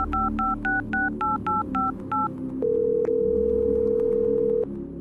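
A telephone keypad dials a number with a quick run of about nine short, evenly spaced touch-tone beeps, followed by a single steady line tone that holds for about two seconds before cutting off.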